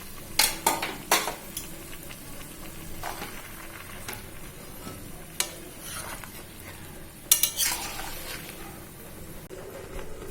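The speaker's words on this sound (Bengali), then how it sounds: "এবার ভালোভাবে মশলার সাথে সবজিগুলো মিশিয়ে নেওয়া হচ্ছে" Vegetables and spices stirred together in a pan for Bengali labra curry, soft sizzling under repeated sharp scrapes and clinks of a spatula at uneven intervals.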